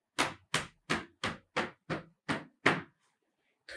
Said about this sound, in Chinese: 敲打双腿的外侧